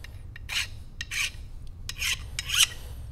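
Coarse sandpaper rasps along the edge of a motorcycle brake pad to chamfer it, in four or five separate short strokes with quiet pauses between them, close and moderately loud.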